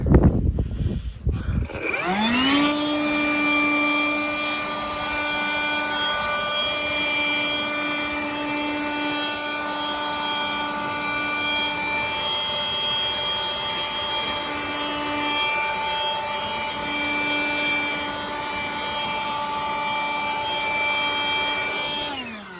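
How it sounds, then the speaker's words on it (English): A blower kicks on after a brief rustle and runs at a loud, steady high-pitched whine, clearing loose sand off a repaired stucco wall, with no speech. "Get your blower."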